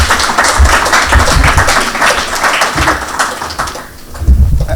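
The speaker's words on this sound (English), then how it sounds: "So please give him a warm round of applause." Warm, sustained clapping from an audience at a Conservation Council of South Australia evening event, dense and fairly close, dipping briefly near the end before swelling again.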